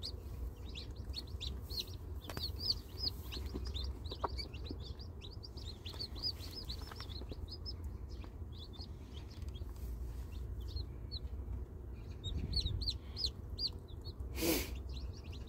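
Hen clucking softly beside her six newly hatched chicks, whose high peeping chirps come in steady bursts over a low background hum, with one louder call near the end.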